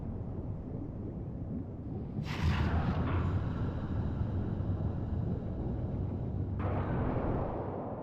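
A giant torpedo explosion in the video game Ghost Trick rumbles as a deep, sustained roar with a bright burst of noise, then fades to a lower rumble that continues throughout.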